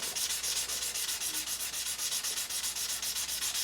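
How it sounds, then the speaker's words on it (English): Sandpaper rubbed back and forth over a guitar fret on an Epiphone Les Paul Standard during polishing, a close, steady rhythmic scratching in quick even strokes, with no voices. "And starting to polish up the fret."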